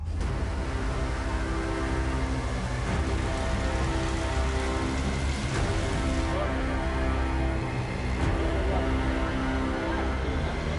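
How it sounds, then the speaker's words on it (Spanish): Heavy, steady downpour from a hurricane that grew over the Caribbean Sea, a dense continuous roar of rain pounding surfaces at constant loudness across the whole stretch, with no voices. "Pero eso fue antes de que empezara a llover"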